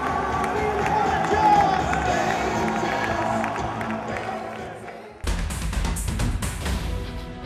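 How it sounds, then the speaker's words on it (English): A large crowd at a college bowl game pep rally roars and cheers steadily, with loud clapping and whoops building into a dense wall of noise after a brief dip in volume. "Huge round of applause for this man."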